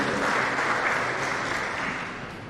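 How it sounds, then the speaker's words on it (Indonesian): Audience applause fills a ceremony hall at the installation of the honorary council and board of the Indonesian Red Cross (PMI) for East Nusa Tenggara province; steady, dense clapping continues throughout and fades slightly at the end. "Tepuk tangan dulu untuk Pak Ketua Umum."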